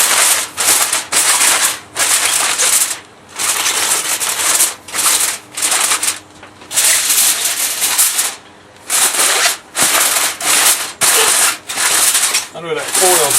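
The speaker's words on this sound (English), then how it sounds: "I know that foil's got to sound great." Aluminum foil being crinkled and pressed over competition chicken, loud close rustling in repeated bursts with short pauses between them, lasting the whole stretch.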